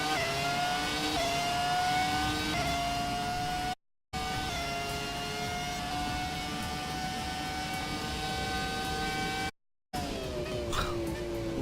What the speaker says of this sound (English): Just nothing beats the sound of a V10 Formula 1 engine.